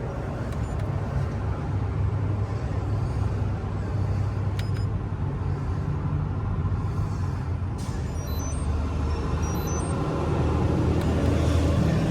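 A golf cart set to about 15 mph on factory-size tires rolls along steadily, its low continuous motor and tire rumble holding even and close throughout with no talk.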